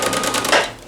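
A sewing machine backstitches a bikini top, a fast rattling stitch heard close for under a second, with a slight change of pace partway through.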